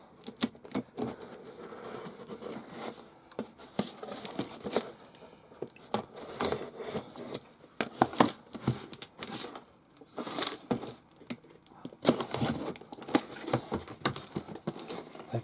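A taped package holding an alloy chassis for a Tamiya CW-01 Midnight Pumpkin is torn open, giving close, busy crinkling, tearing and tapping noises in irregular bursts throughout, with no talking.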